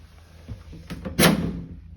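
A back door of a house onto a porch gives a short, sharp clunk as it swings shut, preceded by faint rattling and followed by a fading rumble in an otherwise quiet room.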